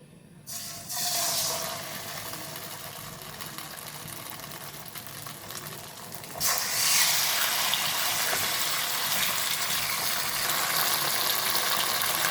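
Marinated chicken malai tikka frying in a few spoonfuls of hot oil, giving a close, steady hiss that swells noticeably louder partway through and then holds a dense, continuous sizzle.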